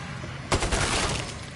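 AK rifle fire in the Killing Floor 2 shooter game: one sharp, loud report followed by a brief rattling burst of shots that quickly fades into steady game ambience.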